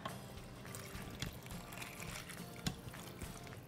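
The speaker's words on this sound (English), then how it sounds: "And then we're gonna add about 1 cup of water." Water is poured from a cup into a crockpot holding dry macaroni for goulash with tomato and ground beef, a steady, soft trickle and splash running throughout with a couple of brief clunks.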